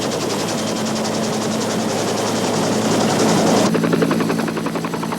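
A military helicopter flies over the sea during a Marine Corps reconnaissance training exercise, its rotor beating in a loud, steady, rapid chop that shifts in tone partway through as if passing close by.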